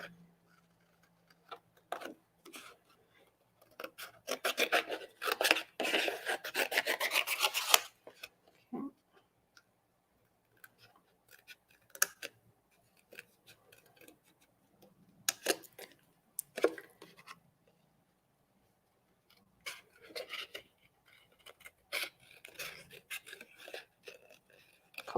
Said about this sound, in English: I'm very much someone who keeps my scissors still and I move my cardstock.